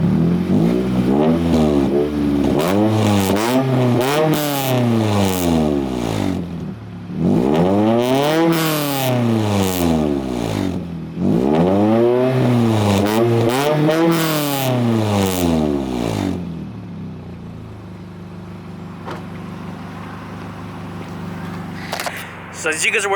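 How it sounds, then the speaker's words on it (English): A Scion tC with a fully custom exhaust revs repeatedly, rising and falling blips in a steady rhythm, loud and close, then settles to idle before one last short rev. "I just want to give you guys a couple revs."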